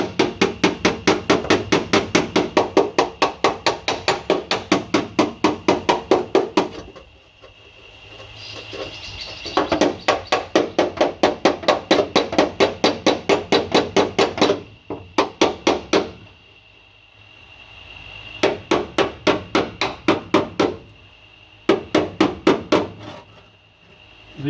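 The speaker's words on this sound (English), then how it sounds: "glancing hits on it, redistributing the metal around it." Floor metal on a Mk2 Escort is struck in rapid bursts of glancing hammer blows, sharp metallic taps in fast even runs separated by short pauses, loud and close.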